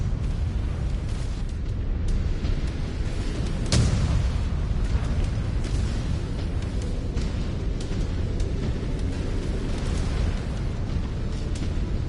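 Missile explosions destroying a mech in the video game Mechwarrior 5 Clans, a dense rumbling wash of blasts with one sharp, louder impact near the middle, heard continuously with no talk.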